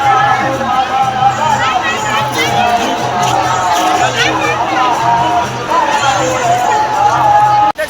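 A dense crowd at the Giraudpuri fair near Chhata Pahad fills the air with loud, steady babble and chatter nearby, with someone speaking over the hubbub.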